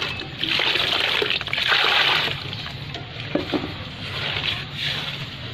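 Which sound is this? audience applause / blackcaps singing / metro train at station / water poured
water poured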